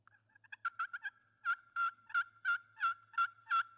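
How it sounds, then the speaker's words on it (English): A turkey call played with a carbon fiber arrow striker gives high, squeaky yelps, a few quick soft notes building into a run of about eight louder, evenly spaced calls, close and alone. "Makes a really unusual turkey sound, and it's the only carbon fiber arrow that'll make this sound."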